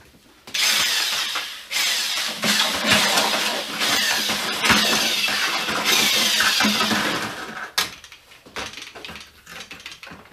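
A small concrete mixer spinning up a wet mix of cement and sand gives a steady churning rattle close by for about seven seconds, starting abruptly and then winding down.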